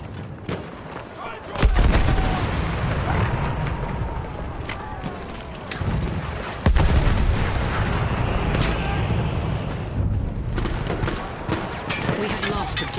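An anti-aircraft gun in Battlefield 1 booms out in heavy, spaced shots amid rolling battlefield explosions and gunfire, loud and close, with a few sharp blasts standing out over a continuous rumbling din.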